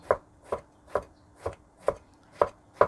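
Eggplant, green-blue-purple and a week old, chopped with a knife on a board: seven crisp, evenly spaced chops, close and clear, with no talking.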